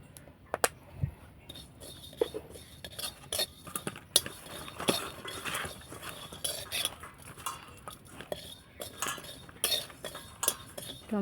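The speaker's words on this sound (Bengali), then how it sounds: "তো এবার জিরে ভেজে নেব।" Cumin seeds fry in a wok over steady low crackle, with frequent metallic scrapes and clinks of a utensil stirring against the pan throughout.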